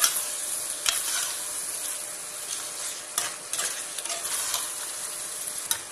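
Mutton and biryani masala are stirred in a hot pan. A spoon scrapes and clacks in irregular strokes over a soft, steady sizzle, close up, with no voices.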